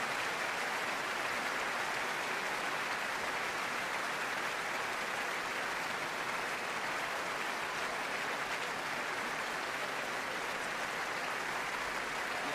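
Steady, even applause from a concert audience for chorus master Stephen Jackson, the chorus and singers after Villa-Lobos' Chôros No. 10, a dense hiss of clapping heard at a distance, continuous and unbroken, with no talk over it.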